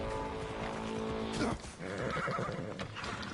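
A horse in the video game Assassin's Creed Odyssey whinnies loudly in a long neigh, followed by clattering hooves and game sounds.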